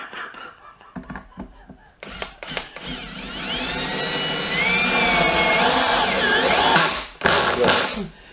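A Milwaukee cordless drill whirs in short bursts, then runs in a long rising whine as a single-thread wood screw is driven, ending with a final quick burst.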